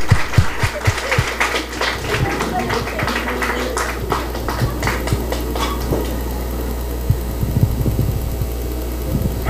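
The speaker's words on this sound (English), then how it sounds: "Let's give her a round of applause." A crowd claps for someone speaker at a panel session on reading, Bookstagram and Booktube; sharp handclaps come in a burst near the start, then thin out under steady murmuring and talk.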